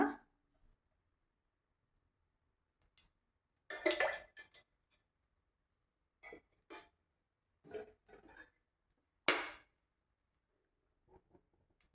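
Metal cookware clinks and knocks on a stovetop in a quiet kitchen, a few sharp scattered clatters with long silences between, as a pan is set down and oil is added for frying onions for chutney.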